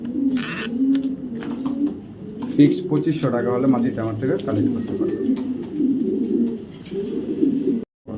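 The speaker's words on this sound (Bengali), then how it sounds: "একটা পাইক মাদি কবুতর" Racing pigeons, including a young 2024 club-ringed hen, coo in low repeated murmurs close by while someone talks over them almost throughout.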